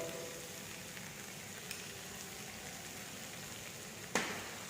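Coriander powder dropped into hot oil for a dal tadka, giving a steady low sizzle and crackle with a few soft clicks and one sharp clatter near the end, no talking.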